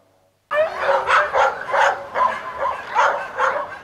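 Stray, hungry dogs bark repeatedly outdoors in an urban setting, a steady run of loud overlapping barks and yips with no talking.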